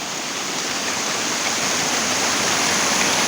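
Water of the Kallampara Chola stream runs down from a waterfall past a roadside culvert, a loud, dense, continuous rushing wash that fills the scene evenly from start to end.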